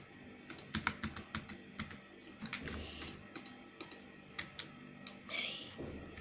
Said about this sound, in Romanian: mă scuzați că îmi stau de tastatură